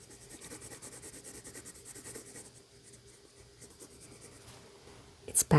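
A pencil scratches and rubs across paper while drawing a globe, in quick, continuous back-and-forth strokes that stay close and soft. A brief louder scrape comes at the very end.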